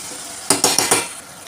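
Mutton paya cooking in a pot, a close, loud run of four quick metallic clinks and scrapes over a steady bubbling simmer, with no one talking.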